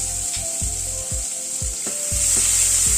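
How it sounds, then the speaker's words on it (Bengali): Finely chopped onion frying in a pan alongside potato for a light egg curry, a loud continuous sizzle with a string of dull thumps and scrapes as a spatula stirs it. "পেঁয়াজটাকে দিয়ে ভেজে নিচ্ছি"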